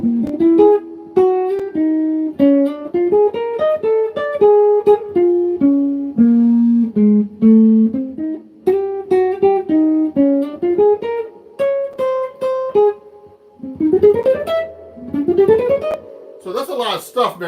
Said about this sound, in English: So that melody sounds like this if I'm playing it slow.